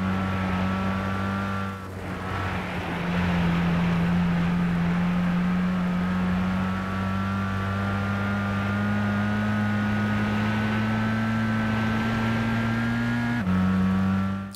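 Race car engine from the Gran Turismo 6 racing game drones steadily at high revs through a lap, pitch climbing slowly, with a brief lift and dip near the start and a gear change toward the end; loud and continuous, no talk.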